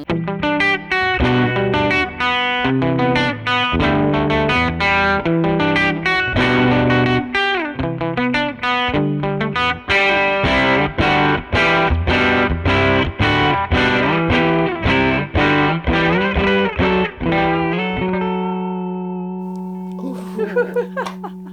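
Distorted electric guitar on a Jazzmaster bridge pickup playing a rhythmic riff with chords and single notes, steady and fairly loud, ending on a sustained ringing note.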